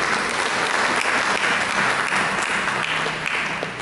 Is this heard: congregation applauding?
yes